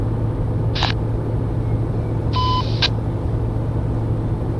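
A truck horn sounds twice in Euro Truck Simulator 2, a short blip then a longer beep, fairly faint over a steady low engine rumble.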